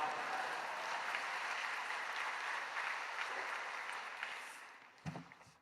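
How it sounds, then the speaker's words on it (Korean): Steady applause from a church congregation at an early-morning service, sustained and fairly loud, fading toward the end with a brief thump or voice at the close. "큰 박수로 맞이하시기 바랍니다"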